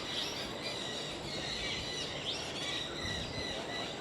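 Steady outdoor calling of a straw-headed bulbul at Bird Paradise, Mandai Wildlife Reserve, Singapore: bright bubbly warbling phrases repeating over a dense chorus of insects and background chatter of other birds.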